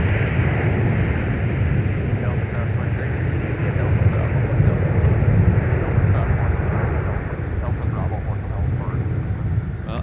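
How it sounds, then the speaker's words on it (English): UPS cargo planes arriving back-to-back at Minneapolis–St. Paul airport, a loud continuous jet roar rumbling low and steady throughout, with some wind buffeting the microphone. "we have back-to-back UPS arrivals"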